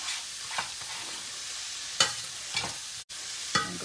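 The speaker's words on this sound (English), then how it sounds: "to stir in my ginger and my garlic so they get near the bottom and they start getting cooked up" Ginger and garlic with vegetables stir-fried in a stainless nonstick wok, a steady close sizzle broken by a few scraping stirs and one brief cutout, no voices.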